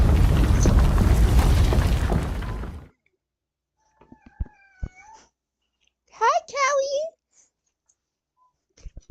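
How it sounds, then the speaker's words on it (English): A pet cat named Callie lets out a couple of short, close meows after a loud rumbling boom cuts off into near silence. "Callie is literally meowing her brain off."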